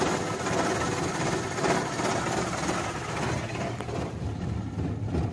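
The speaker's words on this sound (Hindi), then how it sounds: "ये अभी सेल्फ लगाया, ये इतनी ज्यादा हंटिंग कर रही है।" A Maruti Suzuki 800 engine idling with a misfire fault, its steady close mechanical rumble rising and dipping slightly as it hunts, with no talk over it.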